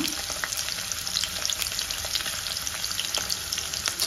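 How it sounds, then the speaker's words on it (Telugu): Cubed onions sizzle and crackle steadily in a hot pan, a constant frying hiss with occasional pops and stirring. "ఆనియన్స్ అయితే బాగా రోస్ట్ చేసుకోవాలా"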